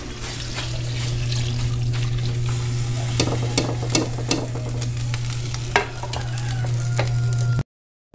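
A pot of Filipino pork nilaga broth bubbles steadily over a constant low hum, with occasional scrapes, clinks and stirring sounds close by and no talking, before cutting off abruptly.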